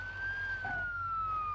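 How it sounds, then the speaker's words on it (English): A police car siren wails in the BeamMP driving game, one steady, slowly falling electronic tone over a low engine rumble. "Let me get my siren"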